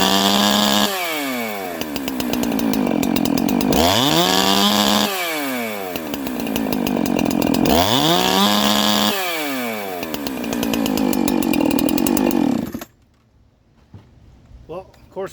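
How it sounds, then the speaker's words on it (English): A Holzfforma G372 chainsaw built from a parts kit, a Husqvarna copy, runs with bar and chain while its carburetor is tuned, revving loudly in repeated rising and falling bursts. It then cuts off into near silence. "let's see about it with a bar and chain"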